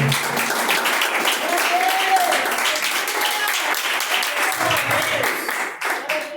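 A church congregation claps steadily through a live worship service, dense and sustained, while a voice speaks or sings over the top.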